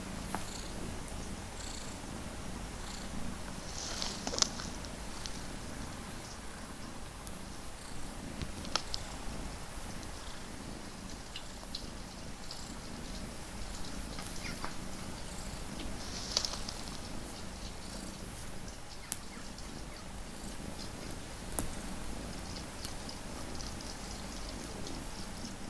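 Big Fergus, a large cat, purrs in a low continuous rumble close up for a long stretch, with a few faint clicks and distant bird sounds and no talk.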